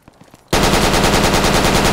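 Gunfire in the Broforce video game, a sudden burst of loud, rapid machine-gun shots that starts after a brief quiet moment of faint clicks and continues in a fast, even rhythm.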